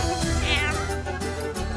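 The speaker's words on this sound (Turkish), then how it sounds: "bebek arabasının yanında bir kedi gelmiş" A cat meows near a baby stroller in a Turkish TV drama scene: one short, rising-and-falling meow sits over a dense, steady background.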